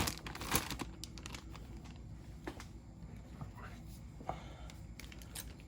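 Tape pulled off an AMT model kit box for a twin V8 dragster, close crinkling and tearing crackles with a sharp rip early on, faint rustles following, and low speech murmuring underneath.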